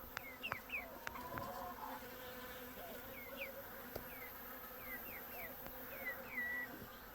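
Bees buzzing around corn plants while gathering pollen in a small, very dry cornfield, a steady insect drone with several brief passes near and far and outdoor birdsong above it.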